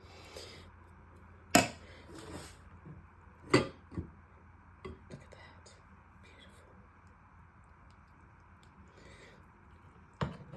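Mashed potato spooned into a bowl in a home kitchen, a few sharp clinks of a spoon against the bowl spaced several seconds apart, with soft squishy scraping in between and quiet room noise.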